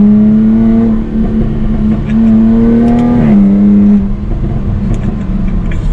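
A 2021 Jaguar F-Type R-Dynamic convertible's V6 engine hums steadily, its pitch rising as it revs and accelerates, then dropping briefly before climbing again, loud and close.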